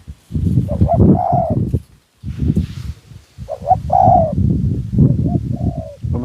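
Repeated cooing calls from spotted doves, several phrases in a row with short pauses, fairly close and clear over a quiet background.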